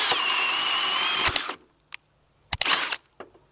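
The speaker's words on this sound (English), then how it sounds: "that 1 inch paddle bit went through with the octane no problem" A Ridgid 18V Octane drill boring with a 1-inch paddle bit, a close whirring grind for about a second and a half, then a few clicks and a second short burst of spinning.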